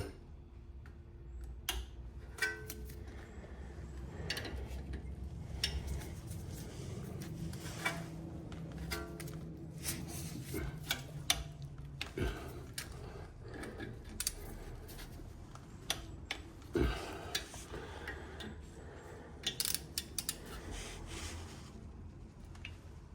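A torque wrench clicking on the front brake bolts of a Porsche 911 991.2, sharp isolated ticks scattered over a quiet workshop background, close and crisp.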